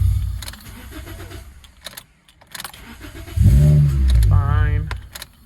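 A 2005 Toyota Corolla XRS engine cranks briefly, pauses, then cranks again and catches into a loud running idle up close, with a suspected bad ground on the starter circuit.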